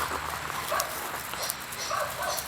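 Young seven-week-old puppies whimper and give small yips in a steady, soft stream of high-pitched sounds, close by and fairly quiet throughout.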